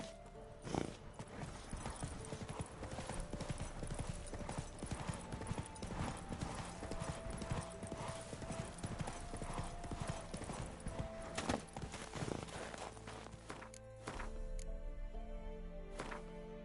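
In The Witcher 3, Roach the horse gallops with a strong, steady drumming of hooves that lasts throughout, layered over game music, with brief speech.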